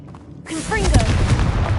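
The Confringo blasting spell in Hogwarts Legacy goes off as a sudden loud boom with a whooshing, rising swirl, then rumbles on heavily. A voice is heard briefly.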